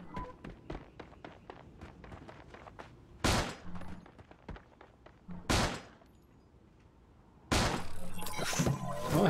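Handgun and other gunfire in the Creative Destruction video game: a fast run of sharp, clipped shots, then several loud, crashing bursts, close and punchy.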